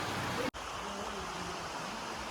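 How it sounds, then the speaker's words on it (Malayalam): A small water channel flows beside the Anchuruli tunnel, giving a faint, steady rushing hiss that breaks off for an instant before resuming. "ഈ സൈഡിൽ കൂടെ ഉള്ള ചെറിയൊരു വെള്ളച്ചാല് മാത്രമേ ഉള്ളേ"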